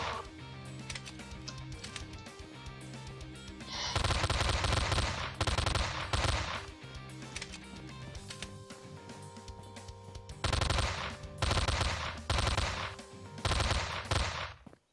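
Rapid bursts of gunfire in the video game Slendytubbies 3 as a player shoots at a spider bot, loud clattering volleys alternating with shorter pauses and lighter shots, with no talk.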